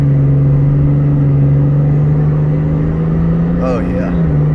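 A diesel truck in race mode from a pedal controller holds a loud, steady droning engine note, rising slightly toward the end, heard from inside the cab with the drone dominating throughout.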